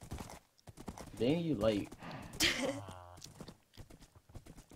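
Horse hooves clip-clop in Minecraft while riding near a village, the steps irregular and stuttering from game lag, heard in short bursts under and between two players talking.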